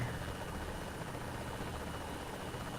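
Helicopter from the video game Saints Row The Third, a steady, continuous rotor and engine drone that stays loud and even throughout with no talk over it.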